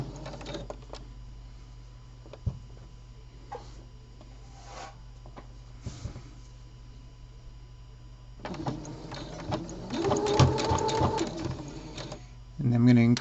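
A sewing machine doing a lock stitch while finishing a seam on a sports garment: quiet clicks and handling, then a few seconds of fast, rattling stitching with a short final run, while someone talks.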